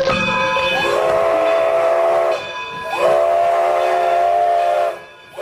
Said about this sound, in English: Steam powered railroad cars,